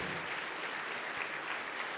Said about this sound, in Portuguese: E vamos aplaudir ao nome de Jesus